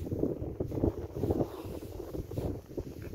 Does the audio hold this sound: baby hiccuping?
no